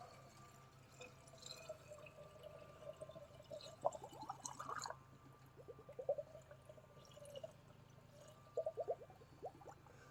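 Regular tap water trickles and drips as it is poured into the radiator of a 2005 GMC Sierra 1500 pickup, faint and irregular, with small splashes over a quiet background hum.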